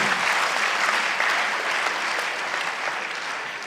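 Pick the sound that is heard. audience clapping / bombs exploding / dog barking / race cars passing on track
audience clapping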